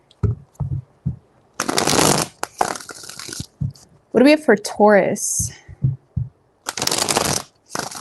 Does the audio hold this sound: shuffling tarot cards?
yes